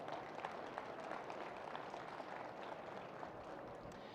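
An audience at an agricultural innovation competition claps and applauds steadily throughout, a dense even patter of many hands.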